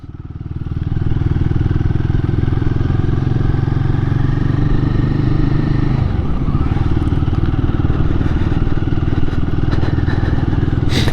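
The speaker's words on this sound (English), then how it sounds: "It's got a nice little grunt to the exhaust, not too loud, not too offensive" A Royal Enfield Guerrilla 450 motorcycle exhaust rumbles steadily up close with a low, throaty grunt, the engine note shifting slightly partway through.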